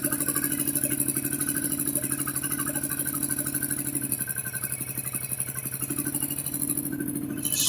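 Aprilia Shiver motorcycle engine idling, a loud steady throbbing mechanical rumble with a fast pulsing beat and a slight rattle, recorded close and running alone.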